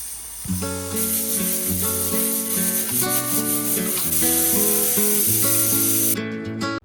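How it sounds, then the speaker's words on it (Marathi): A pressure cooker holding chicken shorba soup lets out a loud, shrill whistle of shifting, wavering tones over rushing, hissing steam, held for about six seconds before cutting off abruptly. "आपण कुकरचे झाकण लावून घेऊया आणि कुकरच्या तीन शिट्या काढून घेऊया"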